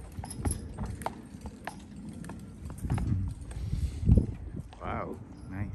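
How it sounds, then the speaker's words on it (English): A horse's hooves clip-clop along a city street, a quiet, uneven run of knocks mixed with general street noise, and voices can be heard nearby. "First time you see horse inside the city."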